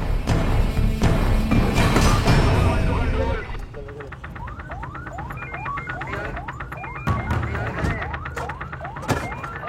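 An ambulance heading to an accident site sounds its emergency siren, a rapidly repeating electronic wail rising in quick sweeps, preceded by a loud burst of traffic noise and heard close amid motorcycle and road sound.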